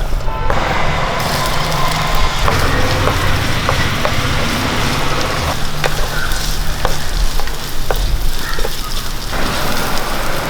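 Ginger garlic paste frying in hot oil in a pan for egg biryani, a loud dense sizzle with repeated clinks and scrapes of a spoon stirring, close and continuous without talk.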